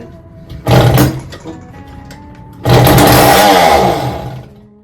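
A 1973 Indian MT100 motorcycle with a Fuji engine roars in two loud, raspy bursts at wide-open throttle: a brief rev near one second, then a sustained, wavering run that fades slightly toward the end.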